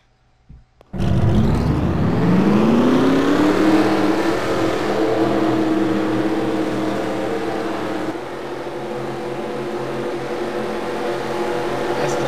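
Race truck engines at a Too Tough To Tame 200 event fire up together and rev into a loud, sustained roar that swells in pitch, then holds steady at full volume with a slight dip near the end.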